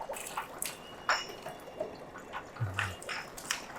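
Dirty water from washing soda bottles drains out at a Madurai goli soda factory, a soft splashing trickle with scattered drips, near and fairly quiet, with no talk.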